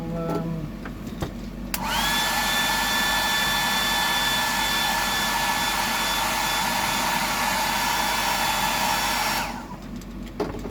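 A hair dryer blows paint dry on a Holygragh Bibless fishing lure painted in a blue back pattern. It switches on, runs loud and steady with a high whine for about eight seconds, then cuts off, with no talk.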